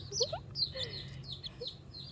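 Young chicken chicks chirp near a temple, giving several quick rising peeps close by, one after another, with softer calls trailing off over a low background rumble.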